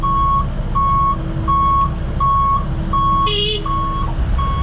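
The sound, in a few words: truck reversing beeps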